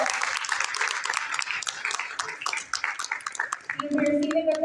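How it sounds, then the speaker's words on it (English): At a book review competition prize ceremony at NED University, an audience claps for the first-prize winner, a steady spread of applause with a voice starting to speak over it near the end. "Please give a big round of applause."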